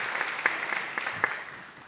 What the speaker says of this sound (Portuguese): Vamos recebê-lo com uma vibrante salva de palmas